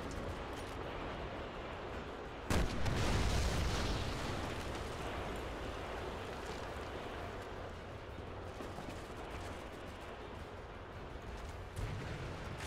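A loud heavy boom of cannon fire from a bridge battle in the video game Resident Evil 6, one sharp blast followed by a rumbling decay over a constant roar of battle noise.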